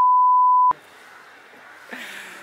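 A steady, high electronic censor beep plays alone and loudly for under a second, then cuts off abruptly, leaving quiet room noise and faint movement.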